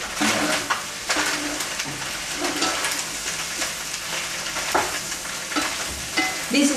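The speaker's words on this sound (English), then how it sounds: "add in the mushroom and the eggplant. Just stir them together." Mushroom and eggplant sizzle steadily in a hot iron frying pan while a utensil stirs and scrapes them, continuous close frying noise with intermittent scraping, no talking.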